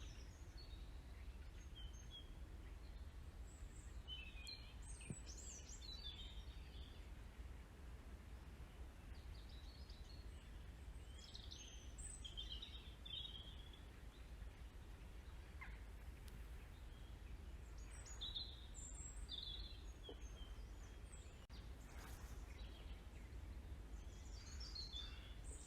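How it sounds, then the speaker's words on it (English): Birds sing outdoors in a quiet garden at a retreat centre. Scattered, faint chirps and calls come from some distance, spread across the whole stretch over a low, constant background hush. "And the birds still sang."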